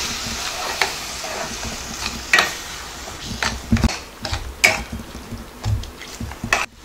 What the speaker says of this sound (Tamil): தக்காளியோட பச்சை வாடை போகிற அளவுக்கு நல்லா எண்ணெய் பிரிஞ்சு வர அளவுக்கு வதக்கிடலாம்